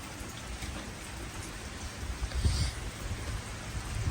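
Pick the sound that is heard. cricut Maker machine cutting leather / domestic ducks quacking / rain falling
rain falling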